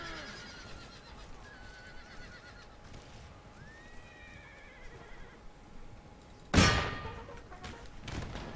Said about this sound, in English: Heavy horse, charge!